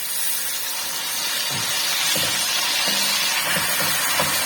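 Chicken sizzling in a pan with garlic and ginger, a steady close hiss of frying with soft stirring knocks.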